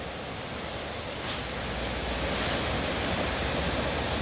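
The fast-flowing, flooded River Don rushes in a loud, steady broadband roar close by, unbroken throughout with no voices.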